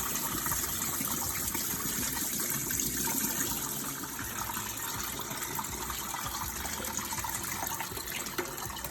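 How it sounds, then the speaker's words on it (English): Water draining and gushing off a block of ice as it is held in place, a steady continuous liquid rush filling the scene at moderate level, with no talking. "Hold the ice as you drain the water out."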